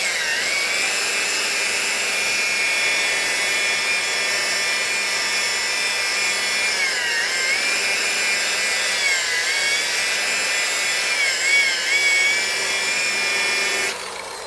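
A power buffer polishes 2K clear coat sprayed over Krylon paint on a speaker enclosure, giving a steady, loud, high-pitched whine that runs unbroken for the whole stretch with slight pitch dips under load.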